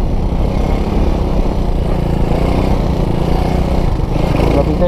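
A Honda Wave motorcycle engine runs close by at a steady, loud idle with a slight rev rising near the end, a dense low rumble that fills the whole clip with no talking over it.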